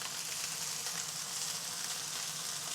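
An egg sizzles in a pan with a steady, even crackle that stays at low volume throughout.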